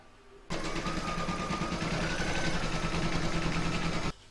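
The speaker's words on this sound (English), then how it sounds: "I'm now going to pop this in my machine and I'm going to stitch round number 1 of the towel topper" An embroidery machine stitches the first round of a towel topper, a dense, even mechanical whir that starts abruptly, holds steady and loud for about three and a half seconds, then cuts off.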